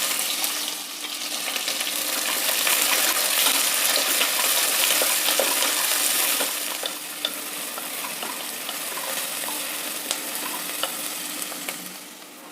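Onions hiss and sizzle in hot oil with roasted urad and chana dal and green chillies while upma is being made, a bright steady fry close by with faint stirring and no voices.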